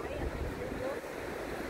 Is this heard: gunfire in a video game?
no